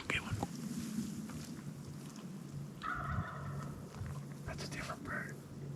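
Faint, distant wild turkey toms gobble a few times from different directions during a hunt, over quiet outdoor ambience and soft whispering nearby.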